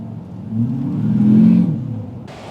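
Truck being driven hard and slid, its engine revving up to a sustained whirring peak and easing off, loud and close with no voices.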